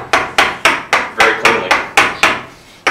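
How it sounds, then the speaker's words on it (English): Mallet striking a chisel to clear a dado in MDF, about nine sharp, evenly spaced wooden knocks, loud and close with short decays, no talk. "Take my mallet, and just tap it out."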